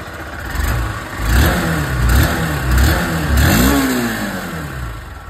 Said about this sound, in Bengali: তাহলে এখানে SP160-র আওয়াজ শুনে নিয়েছেন।